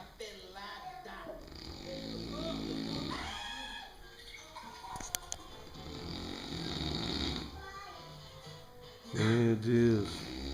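A pig snores close by in slow, rasping, rumbling breaths, with a louder snort near the end, while people talk over it.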